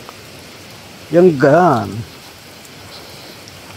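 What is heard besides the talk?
heavy rain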